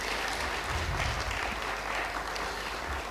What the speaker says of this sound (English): I think she deserves more round of applause than she has received.